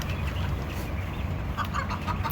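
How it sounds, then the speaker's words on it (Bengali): Chickens on a quail and chicken farm give a few short clucks late on, faint against a constant broad hiss of farm background noise. "তো হচ্ছে আমার কোয়েল পাখি এবং মুরগি ফার্ম"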